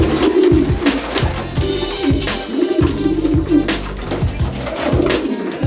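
Pigeons coo over and over in a wintry loft, several birds overlapping in rolling, throaty calls that pulse at a steady rhythm, loud and close, with sharp flutters and scrapes between.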